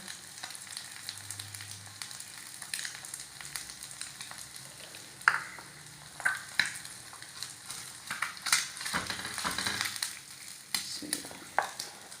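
An egg frying in a pan, seasoned with salt and masala for a homestyle egg burger: steady soft sizzling with scattered sharp clicks and scrapes of a utensil against the pan, close and fairly quiet, no talking.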